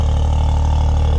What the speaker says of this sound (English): The car seems to idle pretty well. It doesn't seem rough.